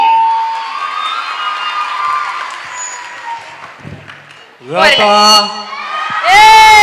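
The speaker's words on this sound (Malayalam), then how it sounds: "എല്ലാവരും ഒരു നല്ല കൈയടി" Crowd at a live stage show erupts in applause and cheering, with loud whoops and shouts that come in bursts and swell toward the end, mixed with voices.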